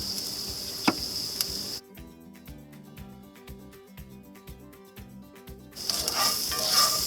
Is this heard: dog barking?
no